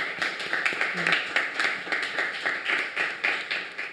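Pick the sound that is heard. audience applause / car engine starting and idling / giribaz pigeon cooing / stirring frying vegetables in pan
audience applause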